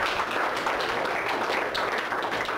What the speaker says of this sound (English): Big round of applause for the lady.